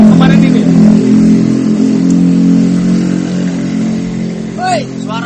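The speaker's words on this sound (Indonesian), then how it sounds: "suara motor benar" A motorcycle engine drones steadily and loudly nearby, with a brief rev near the end, while people talk over it.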